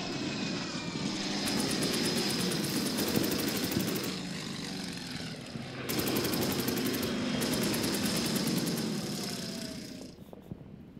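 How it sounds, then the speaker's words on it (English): An enemy WWII fighter plane, an Ilyushin Il-2, drones through a strategy video game with a continuous propeller-engine roar that swells and dips, broken by rapid bursts of machine-gun fire, then fades out. "Now I'm going to go after this enemy fighter plane."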